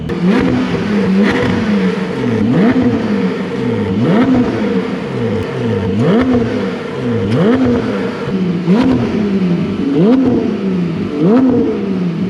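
A Porsche 718 GT4 with a titanium race exhaust revs up and down repeatedly in a steady rising-and-falling cycle beneath a river bridge, loud and close with a rasping, echoing tone.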